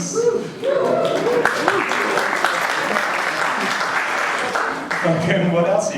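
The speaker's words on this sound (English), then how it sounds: "Guys, clap it up for Muslims." Comedy club audience applauding loudly at a stand-up show about religion, steady dense clapping with some cheering and crowd voices mixed in throughout.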